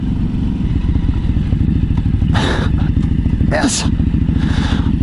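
A 2016 Ducati Hypermotard 939 on a public road, its engine droning steadily at close range with wind buffeting, while a rider speaks briefly over it.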